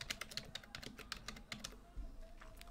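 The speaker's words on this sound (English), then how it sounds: "we're going to simply just click where we want to type and we're going to type away" Computer keyboard being typed on, a quick irregular run of crisp close key clicks over about three seconds in a quiet room.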